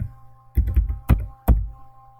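Keystrokes on a computer keyboard come in a quick cluster and then two single taps, close and crisp, with no voices.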